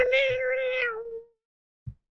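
A human voice imitates a cat being strangled, a loud, sustained, wavering meow-like wail lasting about a second before cutting off, followed by a short thump.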